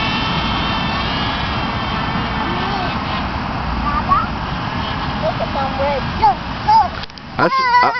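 A small RC airplane motor runs at full throttle as a steady, continuous whine in the air, with faint voices and rustling near the end.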